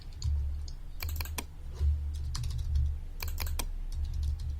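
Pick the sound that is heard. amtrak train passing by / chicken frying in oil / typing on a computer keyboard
typing on a computer keyboard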